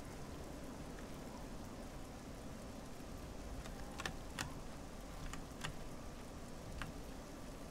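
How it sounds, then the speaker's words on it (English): Steady rain hisses in Oblivion, a broad, even wash of falling water with a few sharp ticks and drips, faint and constant with no talk over it. "Funny how the rain just comes through this."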